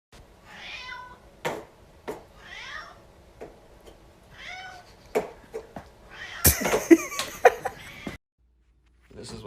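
A cat sneezing outdoors in extreme cold, about minus 50, in Labrador City: several sharp, brief bursts close by, mixed with meow-like cries and a denser flurry of noise near the end, while a person talks nearby.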